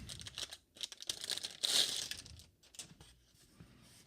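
A plastic bag from phone case packaging crinkles and rustles in short bursts, with one louder crackling handling sound in the middle, close up and with no talking.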